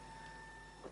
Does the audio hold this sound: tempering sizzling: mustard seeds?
no